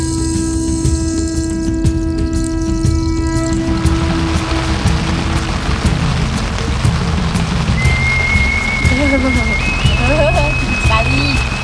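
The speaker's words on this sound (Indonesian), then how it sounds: "Untungnya ketika udah sampai sini hujan baru turun ketika tenda sudah berdiri." Steady rain falls at a mountain campsite on Mount Ungaran, a dense continuous wash of noise with sharp drip impacts, while voices and occasional tonal sounds mix in underneath.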